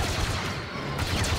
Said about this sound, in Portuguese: Eles não param de vir! Então, continue atirando!